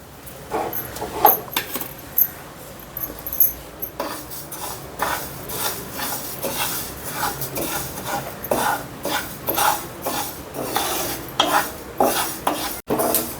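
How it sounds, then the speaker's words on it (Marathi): Flaxseeds roast in a dry pan while a spoon stirs and scrapes them against the metal in a repeated rhythm. Light crackles from the seeds sound close beneath the clatter of the utensil. "हे बघा, आता चुटचुट वाज आले. असं याला खरबूज भाजावं लागते."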